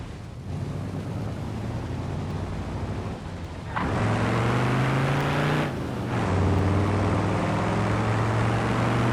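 An old 1930s car drives in BeamNG, its low engine drone steady and close, rising in pitch with each gear as it speeds up, with a brief drop between pulls.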